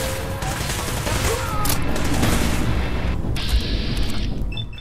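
Gunfire during Fallout 4 combat, a loud continuous barrage of shots and booms layered densely without pause.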